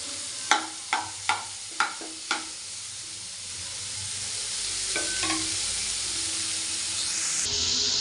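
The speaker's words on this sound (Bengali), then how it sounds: "টিকে ভালকে ফ্রাই করেদেবা" Tikki patties frying in a pan, a steady loud sizzle running throughout, with a handful of sharp utensil taps near the start as they are pressed and moved.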